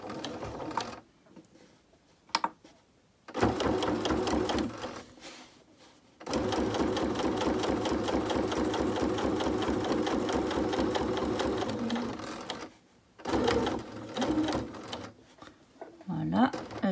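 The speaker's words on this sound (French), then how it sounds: "Je pique, je suis dans au milieu de mes deux tissus" Domestic sewing machine stitching forward and reverse through two layers of fabric while making a face mask, running in long steady bursts with short pauses between, and a person speaking at times over the motor.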